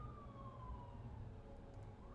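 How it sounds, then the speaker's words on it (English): Ambulance siren in the Mass Effect video game, a faint distant wail sliding slowly downward in pitch as it recedes, then beginning to rise again, over a low rumbling background. "And there goes Jenkins' ambulance."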